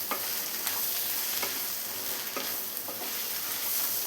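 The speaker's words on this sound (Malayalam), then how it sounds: "ഇതെല്ലാം കൂടെ നന്നായി മിക്സ് ചെയ്തെടുക്കാം." Shredded chicken stirred with garam masala in a hot pan, a steady close sizzle broken by repeated scraping strokes of a spoon against the pan, with no talking.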